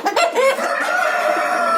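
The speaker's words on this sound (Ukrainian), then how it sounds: "Кури наші. Вон півник стоїть." Chickens and a rooster cluck loudly and close in a farmyard in Cornești, Cluj, Romania, with quick overlapping calls in a short burst.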